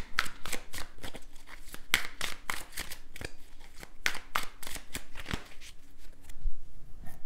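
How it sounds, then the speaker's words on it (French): Tarot cards being handled and covered on a table, a quick run of crisp shuffling snaps and papery slaps, close and fairly loud, with no voices. "On va recouvrir les cartes."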